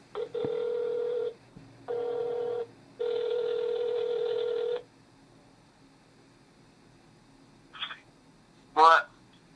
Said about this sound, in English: I'm going to have to make a phone call real quick